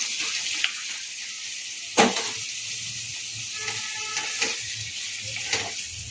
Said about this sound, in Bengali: তেল ছাড়তে শুরু করে দিয়েছে এখন আলুগুলোকে দিয়ে দেবেন